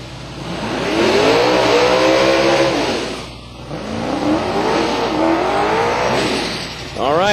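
Two Mustangs, an 89 with a 434 cubic inch Fulton engine on three stages of nitrous and a 2004 model, launch side by side at a drag strip, engines roaring loud and rising through gears with a brief gap, then surging again under announcer talk.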